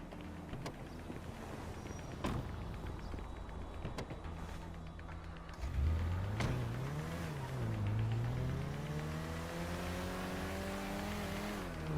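A car in GTA 5 hums along with a continuous engine drone, then revs hard with a sweeping rise and fall in pitch midway, staying loud and up close to the end.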